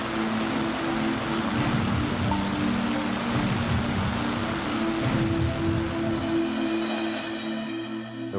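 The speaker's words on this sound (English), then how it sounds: "You throw in that kind of torrential rain, then you're dealing with an impossible situation." Torrential rain pours down steadily at a home renovation and roofing site, a dense continuous hiss with a low droning hum beneath, loud and unbroken throughout with no voices.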